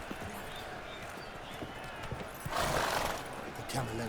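Horse hooves clip-clopping in The Witcher 3, faint irregular hoof thuds under a steady background bed, with a brighter rushing burst midway and a voice briefly heard.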